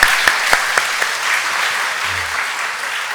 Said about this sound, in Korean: 그 박수 해주시겠습니다